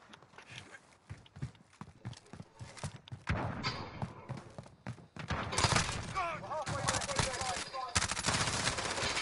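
Rapid bursts of gunfire in the Warzone video game crackle through a busy mix of game effects, with someone talking loudly over the shooting.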